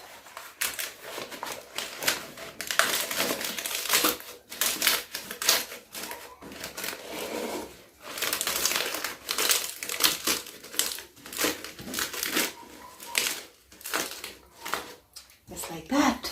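A banana leaf crinkles and crackles continuously as it is pressed over a small saucepan of matooke bananas, a close, busy rustling with dense, irregular snaps throughout.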